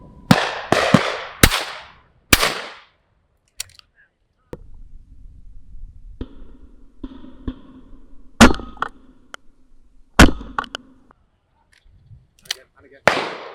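Shotguns fire at game birds during a game shooting lesson, giving a series of sharp, loud reports, some in quick pairs, scattered across the clip, with someone talking quietly between the shots.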